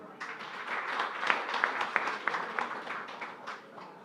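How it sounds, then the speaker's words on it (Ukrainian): Audience at an international forum in Lviv applauding the mayor of Uzhhorod: a dense, even patter of many hands swelling then tapering, with a few sharper nearby claps standing out mid-way. "І прошу привітати оплесками мера Ужгорода."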